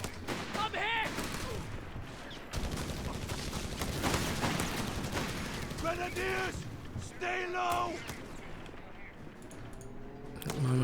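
Machine gun bursts from an MG42 in a tactical war video game, firing in repeated rapid volleys mixed with other gunshots and distant blasts, moderately loud and continuous beneath a commentator's talk.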